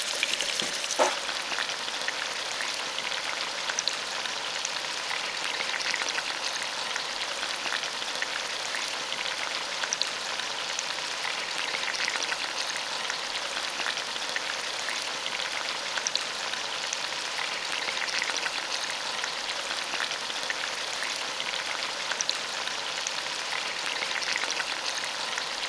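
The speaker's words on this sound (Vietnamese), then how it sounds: "Dầu nóng thì mình cho khổ qua vào chiên nè." Sliced bitter melon frying in four spoonfuls of hot cooking oil in a pan, a steady, bright crackling sizzle that carries on evenly and up close without talk.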